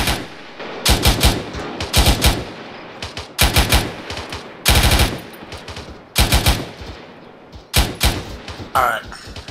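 Bursts of automatic gunfire in the video game Arma 3, loud close volleys of rapid shots in repeated clusters with brief pauses between, a voice briefly heard near the end.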